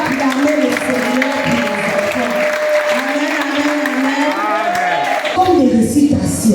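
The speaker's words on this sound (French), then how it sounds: "Est-ce qu'on peut acclamer le Seigneur" Church congregation applauding children in a Sunday school service: steady, loud clapping fills the whole room, with voices crying and chanting over the top and a final swell of cheering.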